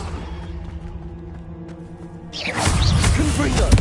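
A Confringo spell is cast in Hogwarts Legacy. After a quiet stretch, a loud rushing whoosh bursts in partway through, and a dense, crackling roar carries on to the end.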